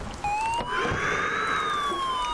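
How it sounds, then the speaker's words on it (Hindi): An ambulance siren in the video game GTA 5 wails loud and close, one rising and falling tone sweep over a steady background rumble. "ये एम्बुलेंस वाली गाड़ी क्यों बोल रही है?"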